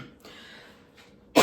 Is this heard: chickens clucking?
no